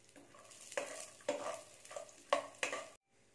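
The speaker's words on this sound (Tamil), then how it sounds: "மீடியம் ஃப்ளேம்ல வச்சு இதை வறுத்து எடுத்துக்கணும்" Cashews and raisins fry in a pan over a medium flame while being stirred, giving soft intermittent scraping strokes over a faint sizzle, close and quiet, ending in sudden silence.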